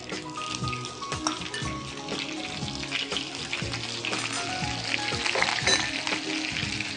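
Mustard seeds, curry leaves and green chillies fry in hot oil for chicken pepper fry, crackling and popping busily in a dense, fairly close sizzle that builds slightly toward the end, with no talk.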